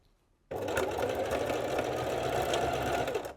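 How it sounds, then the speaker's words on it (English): A sewing machine starts up after a short quiet moment and runs steadily, stitching along a raw fabric edge with a continuous, close, rapid mechanical whir and clatter until it stops. "we're gonna stitch directly onto the edge"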